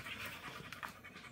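A dog pants close by in quick, breathy rhythmic bursts, soft and fairly quiet with no speech over it.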